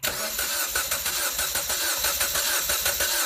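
A 2015 Jeep Patriot engine cranks over steadily on the starter during a compression test with the throttle held to the floor, giving a rhythmic, evenly pulsing whir that runs continuously at moderate volume.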